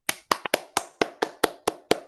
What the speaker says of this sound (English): Let's give these presenters a great round of applause.